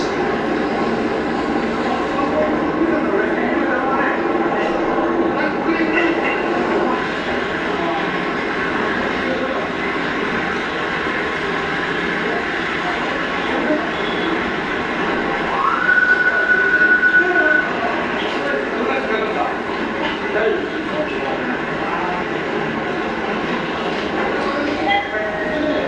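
A large vehicle, called a bus, rumbles past in steady broadband noise lasting the whole stretch, with a brief tonal whine partway through and some background voices.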